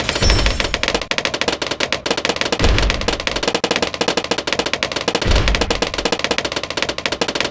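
A plasma monkey tower fires rapidly in the video game Bloons TD, a fast, loud, continuous machine-gun-like rattle of electronic shots with periodic heavier thumps, no voices.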